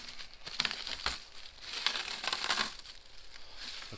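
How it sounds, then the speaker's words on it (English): Protective film being peeled off new Mack Granite dump truck headlights, a close crinkling, crackling rustle with short bursts and peaks throughout. "Let's peel the protective layer,"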